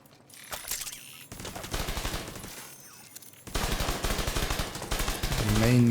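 Rapid bursts of video game gunfire shooting at armor, clustered volleys with short gaps, loud and close, growing denser toward the end.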